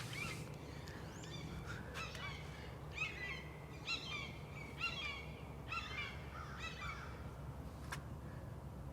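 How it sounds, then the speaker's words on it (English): Harsh, raspy calls of two hawks fighting repeat in bursts every second or so, somewhat distant, over a steady low background hum. "2 hawks are fighting."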